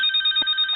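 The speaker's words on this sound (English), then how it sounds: "like your phone is ringing there" A telephone bell ringing continuously in a rapid trilling pulse, steady and fairly loud for a brief moment.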